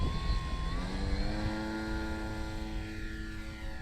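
A Cermark Fantasy Flyer RC plane takes off with a steady electric motor whine whose pitch glides and settles as it climbs away, heard alone and fairly close.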